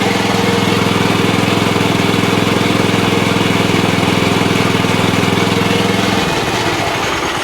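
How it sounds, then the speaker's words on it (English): A Massport Olympic cylinder mower engine idles at its lowest setting with a steady, loud, even putter throughout, then the note drops and roughens near the end as the engine slows. "About there, but the lowest it will actually idle."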